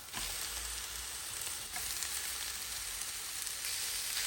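Shrimp and calamari sizzling and frying in a pan for an Asian-style soup with mushrooms and garlic, a steady dense crackling hiss throughout, close and even with no talk.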